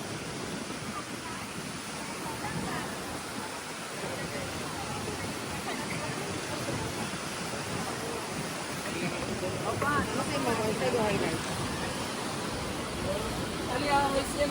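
Sea surf rolls onto a beach on Boracay Island in the Philippines, a continuous broad wash of breaking waves with a gentle swell toward the end, heard alongside a person talking nearby.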